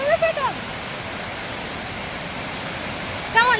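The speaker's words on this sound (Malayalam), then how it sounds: "ദാറ്റ് ഈസ് അവർ വെള്ളച്ചാട്ടം" A waterfall on a rainy day out in Kerala gives a steady, broad rushing roar that fills the whole clip, with a short burst of voices at the start and again near the end.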